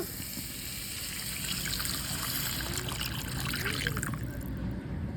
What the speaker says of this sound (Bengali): এবার দিয়ে দিচ্ছি পরিমাণ মতো পানি।